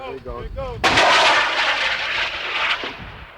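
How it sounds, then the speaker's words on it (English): A TOW anti-tank missile launches from an Improved TOW Vehicle with a sudden loud blast, then a sustained roaring rush that slowly fades, right after a brief stretch of speech. "which can fire the tow anti-tank missile"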